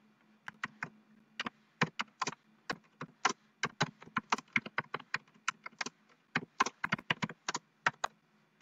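Typing on a computer keyboard: quick, clicky keystrokes land in uneven bursts with short pauses, close and fairly quiet, with no speech.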